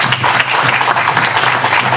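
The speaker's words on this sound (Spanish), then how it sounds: "un fuerte aplauso para Marcos, que le veía por ahí atrás," A large audience bursts into loud, full applause, thick continuous clapping that fills the whole moment close and strong.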